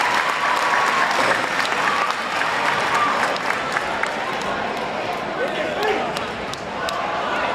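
A packed gym crowd cheers and applauds steadily at a high school men's basketball game between Sulphur Springs and Mount Pleasant, a dense, continuous roar with a commentator talking over it.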